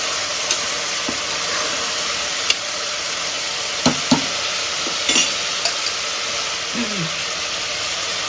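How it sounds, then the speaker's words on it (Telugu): Beans being stirred in a pan for a curry, a steady hissing sizzle with a few sharp scrapes and clinks of the spoon scattered through, close and fairly loud. "సో ఇక్కడైతే మిక్స్ చేస్తాను బీన్స్ని."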